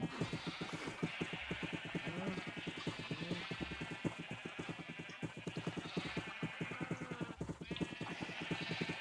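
Minecraft sheep bleat over and over in a steady, close chorus of nasal, wavering calls that overlap continuously.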